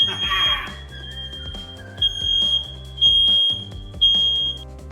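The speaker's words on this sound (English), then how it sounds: "We got the smoke detectors going off after we pan-seared our tuna." A shrill smoke alarm, set off by pan-searing tuna, beeps repeatedly in a steady rhythm of high tones, sounding over kitchen clatter and background noise.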